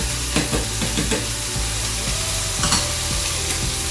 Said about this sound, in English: Alright, we're gonna stir that as we go